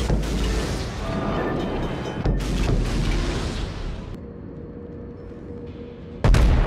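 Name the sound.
torpedo hits exploding on a warship, from the video game World of Warships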